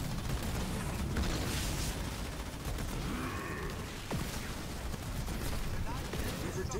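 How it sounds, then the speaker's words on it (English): Dense gunfire from ground troops in the Halo Wars 2 video game, rapid continuous rattling bursts under a constant loud battle din, with voices in the mix. "Jerome, under fire from ground troops."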